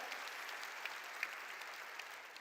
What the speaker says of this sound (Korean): 보는 걸 믿으면 박수로 하나님께 영광 돌려